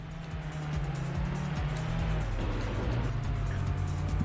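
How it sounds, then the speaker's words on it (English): Racing car engines hum steadily in the PlayStation game Vanishing Point, their tones sliding up and down as gears change, with a continuous loud drone and no talking. "I find the sound of the cars a bit"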